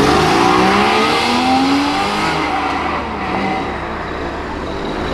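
Supercar at a car show, its engine revving loud and close with rising and falling sweeps, a steady roaring drone that eases slightly near the end.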